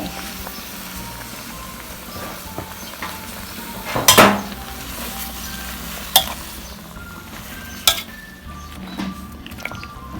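Pot noises and bubbling as chiang da leaves are added to boiling water, with a few sharp clinks and scrapes of a utensil stirring, steady low background throughout.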